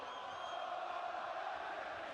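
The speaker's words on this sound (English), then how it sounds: "We weren't sure if the crowd was going to be loud, but they are" A boxing arena crowd roars throughout a heavyweight bout, a continuous, distant-sounding wall of cheering and shouting that stays even and unbroken.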